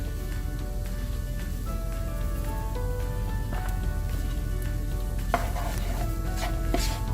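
Rice is stirred through beef, peppers and seasoning in a pan with the heat off, a steady soft scraping and rustling continuing throughout, close and moderately loud.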